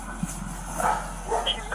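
A dog barks and yips in short bursts close by, mixed with a voice talking over it during a tense encounter with sheriff's deputies.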